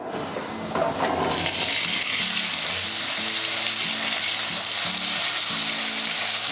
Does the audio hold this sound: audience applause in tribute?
no